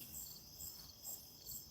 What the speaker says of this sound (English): it's quiet and there's just crickets and that's it